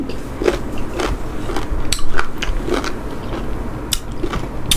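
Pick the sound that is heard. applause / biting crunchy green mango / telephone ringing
biting crunchy green mango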